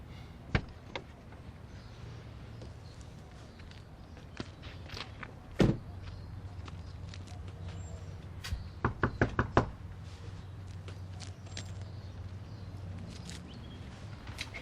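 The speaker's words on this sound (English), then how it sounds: "So, who's going to knock? I guess I will." Knuckles rap on a door in several bursts, isolated single knocks and then a quick run of four or five sharp raps, set against a steady low background hum with no talking.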